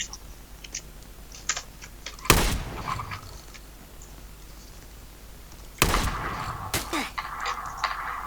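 A Vector gun fires in a video game in two loud, sharp bursts, the second followed by another shot, with soft keyboard-like clicking in the gaps between.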